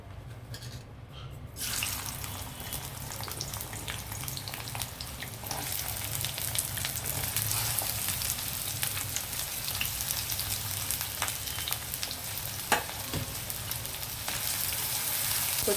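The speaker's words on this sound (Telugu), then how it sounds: "ఆయిల్ హీట్ అయ్యాక మనం ఉల్లిపాయలు వేద్దామండి." Onions frying in hot oil for a chicken and potato curry, a steady broadband sizzle that swells after a quiet opening and holds at moderate level, with a few faint clicks and no talking.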